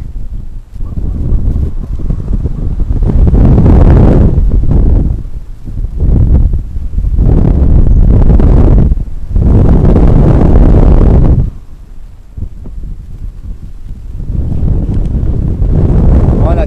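Strong, gusty wind roars across the microphone during a tandem paragliding flight, swelling and dropping in loud surges throughout, with a voice speaking now and then beneath the buffeting.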